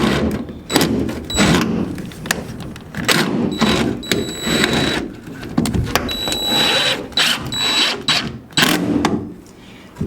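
A power driver sinking 1-inch deck screws into a jon boat's frame ribs, with repeated short whirring bursts and clicks separated by brief pauses, close and fairly loud.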